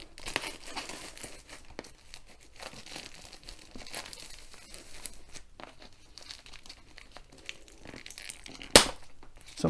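Cellophane wrapping crinkles and tears as it is stripped from a diamond painting kit box, irregular crackling bursts close by, ending in a sharp loud rip.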